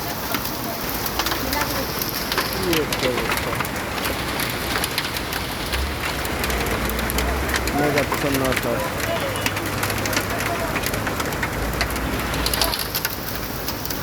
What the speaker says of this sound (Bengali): প্রচুর শিল পড়ছে, বৃষ্টি হচ্ছে, প্রচুর শিলে পড়তেছে